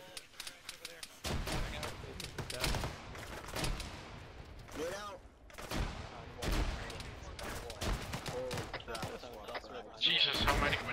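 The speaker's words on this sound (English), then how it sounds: "Jesus, how many grenades were thrown?" Grenade explosions and battle noise in the military game Arma 3, a rapid series of heavy blasts and cracks spread across the stretch, mixed with excited voices talking over the chaos.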